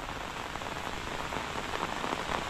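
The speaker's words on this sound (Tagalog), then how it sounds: "Wala kasing tigil ang ulan pamula kagabi pa." Steady, dense rain pours down during a flood, a continuous close hiss of drops striking surfaces with no pauses and no voices.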